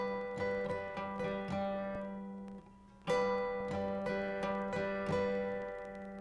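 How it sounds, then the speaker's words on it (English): Solo acoustic guitar playing a song: pairs of strings plucked with thumb and middle finger alternate with light strums from the index fingertip in a steady repeating pattern, close and fairly soft. "plucking 2 strings, again with a thumb and a middle finger, and then lightly strumming"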